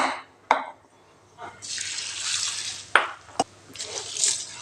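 Red poha (flattened rice) being washed in water in a kitchen, with splashing and swishing, sharp clicks of the bowl, and short bursts of running water.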